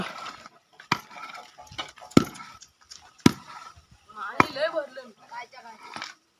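A courtyard floor plastered with a mix of cow dung and water is beaten with a wooden tool, giving sharp separate thwacks spaced a second or so apart, close up, with voices talking between the strikes.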